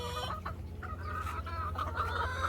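Chickens cluck and squawk continuously at close range while scrambling and fighting over a frog in a backyard urban flock, a busy overlapping chorus with no talk.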